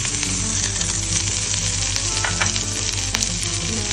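Cubed butter with garlic and chilli sizzles loudly and steadily in a hot pan while a tuna sandwich is being made, with occasional light clinks of stirring over the constant close frying hiss.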